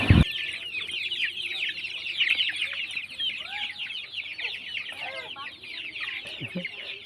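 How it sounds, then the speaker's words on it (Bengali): Several chickens cluck close by in an ongoing, irregular chatter, with a sharp knock at the start and low background noise throughout. "মুরগিগুলো তাও পিছন পিছন ছুটে যাচ্ছে"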